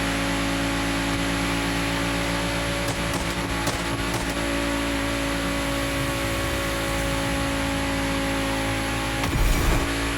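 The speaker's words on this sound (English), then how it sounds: "I'm also having a little trouble hearing you over my backfiring Audi." Engine of an Audi car in The Crew Motorfest racing game, a steady close mechanical drone with a tonal hum that runs the whole time, a few rough bursts in the middle, and a louder crackling surge near the end.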